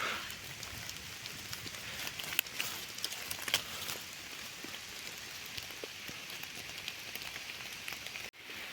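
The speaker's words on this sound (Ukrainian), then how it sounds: "Ще дощик уже дуже сильний починається" Steady heavy rain patters on leaves and ground in a birch and aspen forest, a soft continuous hiss with scattered sharper drops, heard up close without talking.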